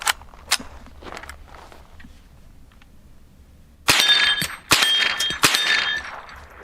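A Savage Model 64 rimfire rifle fires a series of sharp, snappy cracks: a few fainter ones early on, then three louder reports close together near the end with a ringing tail.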